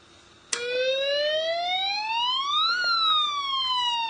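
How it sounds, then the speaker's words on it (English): A simple alarm IC drives a small speaker, which switches on abruptly and gives a loud electronic siren tone that sweeps upward for about two seconds and then slowly glides back down, alone and close. "This is a close-up of the simple alarm circuit."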